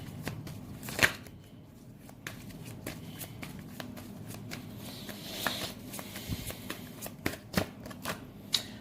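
Tarot cards shuffled and riffled by hand in a quiet room, soft papery rustling with several sharper snaps and taps standing out near the start and toward the end.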